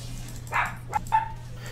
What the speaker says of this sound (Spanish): Ahí el perro.